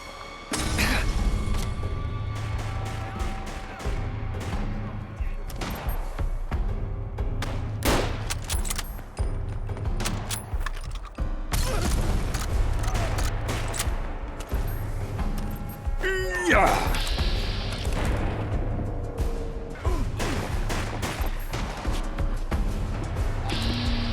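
Gunfire in the game Fallout London: repeated loud shots and bursts scattered through a combat scene, with heavy booms and impacts and voices shouting between the shots.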